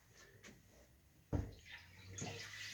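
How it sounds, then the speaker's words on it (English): Water sloshing and splashing inside an air compressor tank that has not been drained, heard in a few short, close surges with a louder slosh midway and a quiet hiss between them. "you hear that? That's the water in this tank."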